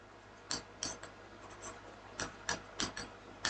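Chalk or marker strokes land on a board during a class 10 coordinate geometry math lesson, a series of short, crisp scratches and taps arriving in irregular bursts, fairly close and alone.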